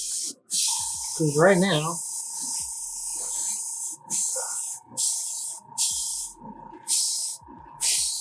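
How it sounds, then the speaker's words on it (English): Repeated bursts of aerosol spray, several short hissing blasts in an irregular rhythm, with someone talking briefly over the first ones. "Just spray it just to give us some color."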